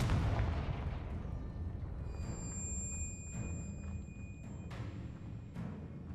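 A Confringo fire spell explodes in the video game Hogwarts Legacy with a loud, deep boom that rolls out into a fading rumble, followed by a few sharp magical pings.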